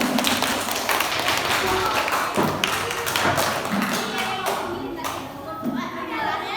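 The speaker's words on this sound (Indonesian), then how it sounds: "Tepuk tangan untuk kalian semua." A classroom full of students clapping, a dense patter of hand claps with thuds, mixed with voices, fading slightly toward the end.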